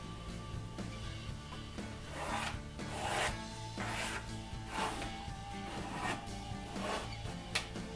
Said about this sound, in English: we just line it up to 1 inch here and we trace it out